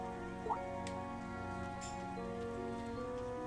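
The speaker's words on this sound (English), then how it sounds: "I didn't think it was raining this hard." Heavy rain falls steadily in the video game Trails of Cold Steel III, a quiet continuous hiss beneath a sustained musical score, with one brief higher blip.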